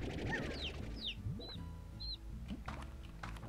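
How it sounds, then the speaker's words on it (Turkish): Chickens in the video game Slime Rancher cluck and chirp in a few short, faint calls over a soft, steady game background, with no talking. "Tavuklar çıkmış, tamam."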